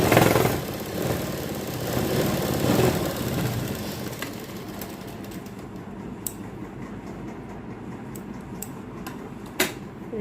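A sewing machine stitches a curved seam on a baby frock, a steady mechanical whirr that runs louder through the first few seconds, then settles into a softer hum with a few light clicks toward the end.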